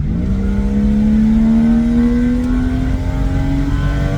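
BMW E36 with an M52 engine revving up steadily toward 6,500 rpm, a close, loud climbing engine tone across the whole clip.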